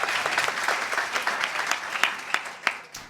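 Audience applause at a live Hindi satirical poetry recital, a sustained patter of many hands clapping at moderate volume with a few sharper claps standing out near the end.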